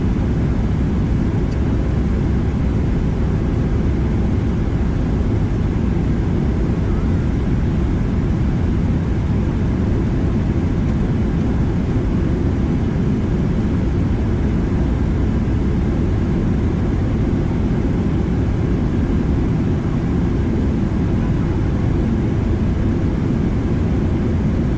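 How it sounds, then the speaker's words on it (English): A steady, loud roar of jet engines from an airliner on landing rollout with thrust reversers deployed in a flight simulator, a broad rumbling wash that holds constant for the whole stretch with no talk. "That was a good landing. And good reverser deployment."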